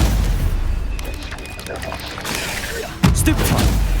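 Stupefy spell cast in Hogwarts Legacy combat, a magical whooshing impact over a busy game soundscape, with a sharp loud burst near the end and voices shouting spell names.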